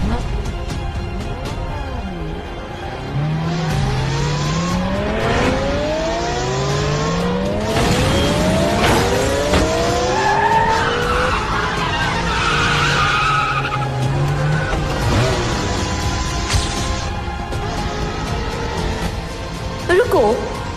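Race cars speeding past on race day with a road closed off, engines revving in rising sweeps and tires squealing in long skids, loud and continuous with voices talking over them.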